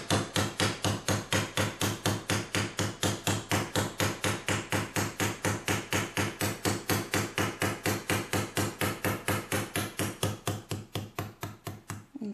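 Rapid, evenly spaced riveting hammer blows ring out on a metal seam over a swage block, dozens of sharp clanging strikes in a steady rhythm, close and loud, easing slightly near the end.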